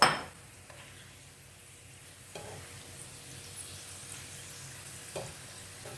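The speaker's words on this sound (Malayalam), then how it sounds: "അത് നന്നായിട്ട് മൂത്ത് വരുന്നുണ്ട് പപ്പടം" Pappadam frying in hot oil, a faint close sizzle with a sharp clatter at the start and a few light scrapes and clinks of a pan and utensil over six seconds, no voices.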